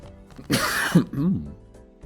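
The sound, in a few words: cough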